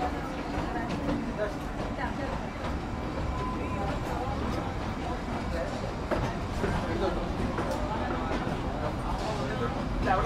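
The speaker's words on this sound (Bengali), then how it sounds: "এই আমাদের ট্রেন ঢুকছে সিমলা রেলওয়ে স্টেশন।" Kalka–Shimla toy train pulling into Shimla railway station, a steady rumble of rolling wagons with faint rail clatter, continuous and close, with people talking over it throughout.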